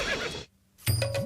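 A horse neighs in a Tamil period comedy film scene, a loud whinny after a brief silence, with a rising and falling tone and a low rumble beneath.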